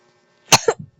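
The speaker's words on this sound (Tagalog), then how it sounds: "may ubo ako" A single sharp cough from a person, brief and close, followed by a couple of softer throat sounds.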